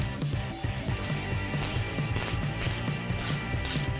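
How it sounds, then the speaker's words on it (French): Rapid ratchet clicking as a wrench loosens a motorcycle fork screw, a close, steady series of clicks without talk. "Et on va desserrer jusqu'à temps d'extraire la vis."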